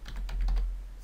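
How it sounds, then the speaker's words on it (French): Quick, light clatter of computer keyboard keys as an email address is typed, several close taps in a brief burst over a low hum. "on va saisir le nom de la personne à qui on veut écrire"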